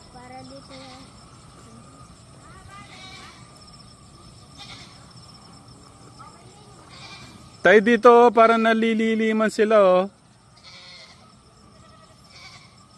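Goats bleat loudly and close in a rough, wavering chorus lasting a couple of seconds, with quieter bleats before and after and a person talking in between.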